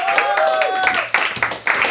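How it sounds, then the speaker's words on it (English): A studio audience at a stand-up comedy show applauds, a dense burst of clapping and cheering that swells under a host's voice on stage. "Give them all a huge round of applause to make their way back up the stage."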